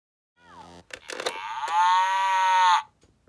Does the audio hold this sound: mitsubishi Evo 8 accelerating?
no